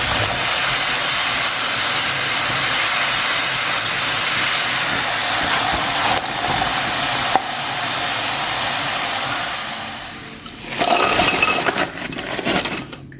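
Potato bites crisp-frying in hot oil give a loud, dense, steady hiss and crackle that fills the clip, thinning out near the end as sharper clinks and scrapes break through.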